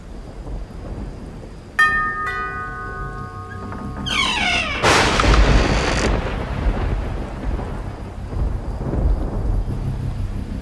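Heavy rainstorm with a steady, dense wash of rain, interrupted early by a loud crack and rolling rumble of thunder, plus a few tonal chimes before the downpour settles into continuous roar.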